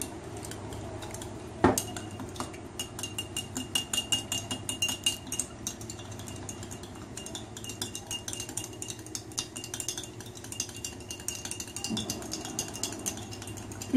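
A spoon whips mayonnaise and oil together in a bowl, clinking rapidly and continuously against the sides. A sharper knock comes near the start, and a faint steady hum runs underneath the stirring.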